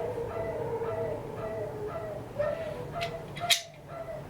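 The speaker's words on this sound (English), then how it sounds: "Oh, those dogs are so mad." Several dogs, among them a Dachshund, bark sharply at a distance against a quiet background, one louder bark rising near the end.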